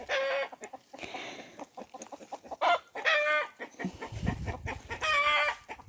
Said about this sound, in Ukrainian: Маленькі пасуться кури.